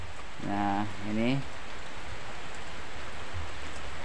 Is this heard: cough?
no